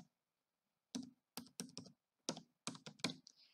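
Keys on a computer keyboard tapped in several short bursts while a password is entered, close and fairly quiet, with brief pauses between groups of strokes.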